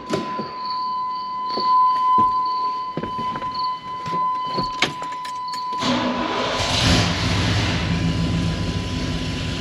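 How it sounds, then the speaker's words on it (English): A truck engine cranks after scattered clicks and a steady electronic tone, then catches and settles into a loud, continuous running rumble. "I'm going to start the truck."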